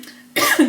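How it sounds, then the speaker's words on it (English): A single sharp cough bursts out at close range after a quiet moment, loud and raspy, with no talk around it. "I still have the cough"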